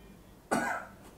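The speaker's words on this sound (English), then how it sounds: "Would you cough for me, please?" One short, moist cough from a patient during a medical chest examination, close and fairly quiet over a faint room hush.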